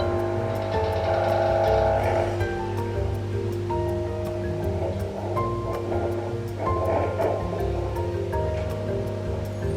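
A Hibrew Keurig-style K-cup coffee machine runs plain water through to flush its internals, giving a steady, fairly loud low hum and gurgle with a faint sputter of water that carries on throughout.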